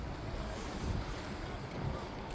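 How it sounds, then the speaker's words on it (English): A boat comes in along the river at Oulton Broad, Lowestoft, its sound steady and spread out beneath heavy wind buffeting the microphone. "Boat coming in just there."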